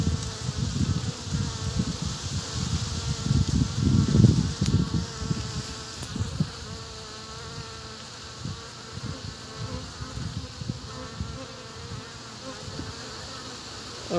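Honey bees buzz steadily and close, a dense insect drone that swells louder early on and then settles into a softer continuous hum, with no voices over it.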